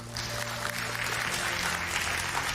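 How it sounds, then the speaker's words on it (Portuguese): Church congregation clapping together for a steady stretch, a dense even patter of many hands with a low hum of the room beneath and faint voices mixed in. "Aplauda Jesus."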